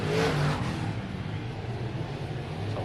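Race cars in an XR Series support class at Mountain View Raceway roaring down the back stretch, a loud sustained engine drone that swells at the start and settles into a continuous far-carrying rumble.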